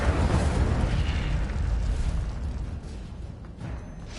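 A fire spell bursts with a loud, sustained roaring whoosh in a Harry Potter wizarding game, then fades slightly toward the end with no one speaking over it.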